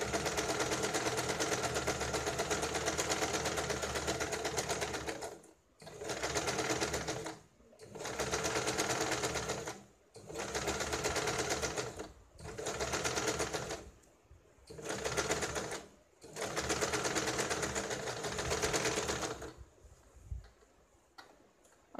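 A sewing machine stitches around the edge of a cloth baby bib in bursts of steady, fast mechanical whirring, about seven runs separated by short pauses, close and clear with no talking.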